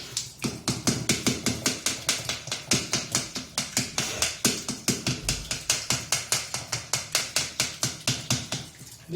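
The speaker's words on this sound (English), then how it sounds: "Tap it gently, don't do it very vigorously," A reverse osmosis membrane from a domestic water filter tapped gently over and over, around thirty hollow knocks in a steady, even rhythm, close and fairly loud with no talk.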